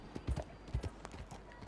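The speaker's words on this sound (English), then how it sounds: "Snowdrop here is my horse." A horse's hooves clip-clop in Red Dead Redemption 2 Online, a few uneven thudding steps close by at low level, with faint game ambience behind.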